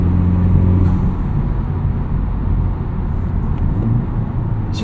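A 2023 FL5 Honda Civic Type R fitted with a Cobb Redline carbon fiber intake is heard from inside: a loud, continuous engine drone with a short rise and fall in revs while driving.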